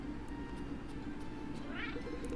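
Cat meows in the video game Cat Quest II, a short run of soft game-sound mews over a steady low background hum, fairly quiet.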